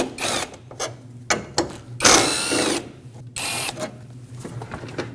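A ratchet or power tool removes 10mm bolts from the air intake tubing of a 2.5L four-cylinder Nissan Frontier, giving bursts of mechanical clicking and whirring with brief pauses, close.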